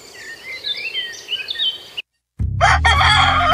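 A rooster crows loudly amid chirping fowl at the public market in Cavinti, Philippines, then a brief silence, followed by a sudden louder burst of noisy clucking and commotion.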